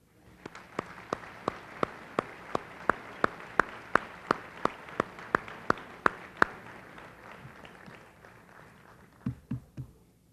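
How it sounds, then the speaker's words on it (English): Applause from a banquet audience at a Chamber of Commerce awards dinner honoring the Ambassador of the Year, steady claps with a few sharp, loud ones on top, fading out and giving way to a voice near the end. "Let's give a warm round of applause"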